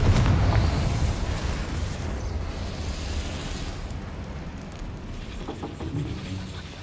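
A Confringo blasting spell goes off in Hogwarts Legacy, a loud low rumbling burst that opens strong and then rolls out into a long, slowly fading roar with scattered crackles.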